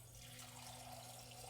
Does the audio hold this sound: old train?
no